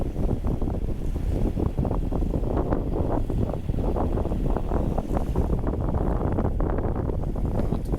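A sailboat motors along under engine through the Raz de Sein off Brittany, a steady low drone mixed with wind buffeting the microphone and water rushing past.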